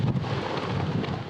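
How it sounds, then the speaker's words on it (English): Hurricane Sandy's outer bands bring a constant, loud roar of wind and heavy rain on the Outer Banks, a dense rumbling wash with no pause. "This nonstop rain and wind just making life miserable."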